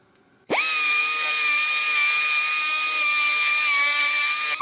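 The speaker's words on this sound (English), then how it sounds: "let's get us two holes drilled" A power drill bores holes into an engine block during a stroker engine build, starting abruptly and running as a loud, steady high-pitched whine with no pauses or speech.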